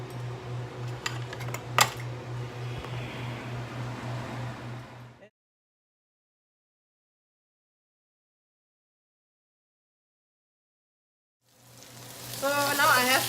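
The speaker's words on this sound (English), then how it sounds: "So now I have the garlic, and no, ginger, and the onions. Saute them until fragrant" Garlic, ginger and onions sauté in a pan with a steady sizzle and occasional utensil clinks. The sound cuts to silence for several seconds, then the frying returns.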